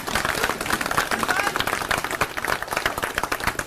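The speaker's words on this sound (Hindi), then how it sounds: "जोरदार तालियों से स्वागत करेंगे।" Loud, dense applause and clapping from a crowd at a Delhi political gathering of auto drivers welcoming an Aam Aadmi Party leader, continuous and steady throughout with voices mixed in.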